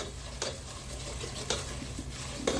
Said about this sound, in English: Right now we're just cooking that flour taste out